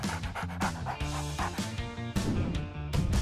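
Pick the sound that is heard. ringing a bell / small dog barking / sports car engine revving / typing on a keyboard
small dog barking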